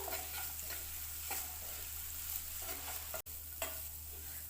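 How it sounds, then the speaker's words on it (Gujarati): Kantola vegetable dish stirred in a pan over low heat, soft repeated scraping strokes of a spoon against the pan over a gentle steady sizzle and low background hum, with a brief dropout partway through. "આ શાકને તમે 2 થી 5 મિનિટ સુધી હલાવી શકો છો।"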